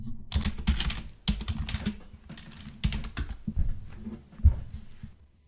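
Typing on a computer keyboard while entering a Docker command, rapid bursts of close, crisp key clicks in irregular clusters with short pauses, ending in quiet.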